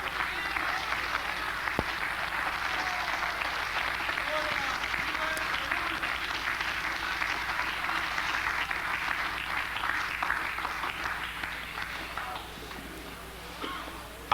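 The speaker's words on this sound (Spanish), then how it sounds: "¿Cuántos le pueden dar un aplauso al Señor?" A church congregation applauds in a sustained, steady round of clapping that lasts several seconds, with a voice speaking faintly under it before the clapping fades near the end.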